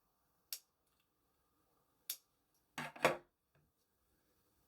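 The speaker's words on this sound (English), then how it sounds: "pull the yarn through, and cut it" Scissors cut knitting yarn during finishing on a 22-pin circular knitting machine project, giving a few sharp, quiet snips spaced apart, ending with a closer double snip, in an otherwise silent room.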